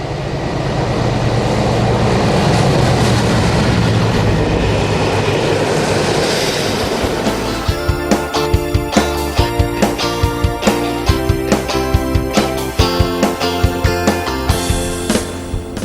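British Rail locomotive 60040 rolls past, building from a broad rumble into loud rhythmic clickety-clack of wheels over rail joints as the train runs by close at hand.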